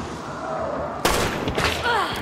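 Gunfire in a video game bounty hunt: a sudden loud shot, then further sharp bursts of firing over a constant background hum, with voices talking at times.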